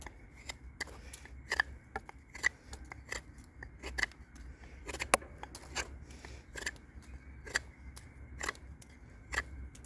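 A Chris Caine survival knife carves wood in a steady series of crisp, short scraping strokes, close and fairly quiet, with no talking.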